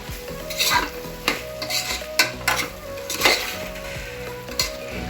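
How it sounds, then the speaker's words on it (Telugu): A spoon scrapes and stirs moong dal through mixed vegetables in a pan, with soft sizzling and a series of clinks and scrapes at an uneven rhythm, no voices. "సో పెసరపప్పు మొత్తం కూడా వేసేసి నేను ఒకసారి మిక్స్ చేస్తున్నాను."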